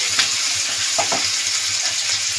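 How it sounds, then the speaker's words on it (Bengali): Grated tomato paste sizzles gently in a pan while a spoon stirs it with a few scraping clicks, a steady close frying hiss throughout. "টমেটোটা দিয়েও নাড়াচাড়া দিয়ে ভেজে নেব।"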